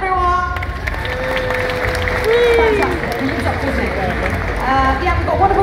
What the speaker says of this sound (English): Okay, another round of applause to Rocky Penguin,